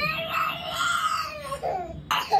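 A young child crying nearby in long, wavering wails that break into shorter sobbing cries toward the end.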